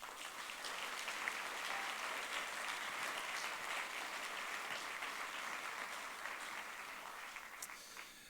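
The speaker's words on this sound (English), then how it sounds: "maybe you can give an extra applause to them" Sustained applause from an audience at an ecumenical World Council of Churches symposium, thanking the lecturers; steady, fairly distant clapping that holds evenly for about eight seconds and tapers slightly at the end.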